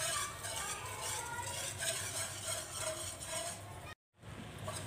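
A utensil scrapes and stirs a white sauce mixture of flour in a pan, a soft continuous swishing with faint sizzling, broken by a short silent cut near the end.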